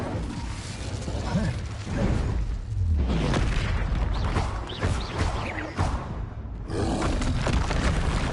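The Incendio fire spell cast in Hogwarts Legacy, erupting as a loud whooshing boom of flame that roars and crackles, then flares up again after a brief lull, with a voice briefly audible.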